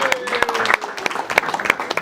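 Scattered clapping from a small comedy-show audience at Dalton Place, a handful of irregular, fairly close claps mixed with a voice.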